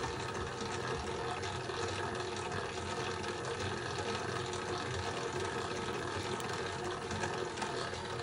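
A dough mixer runs steadily with flour in the bowl, giving a continuous mechanical whir and hum with a faint rhythmic rattle, loud and unbroken throughout, with no talking.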